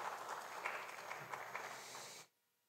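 Audience applause at an official commissioning ceremony for the Ghana GOALS project, honoring the Executive Secretary of the Energy Commission: a steady, fairly faint patter of many hands for about two seconds that stops abruptly into silence.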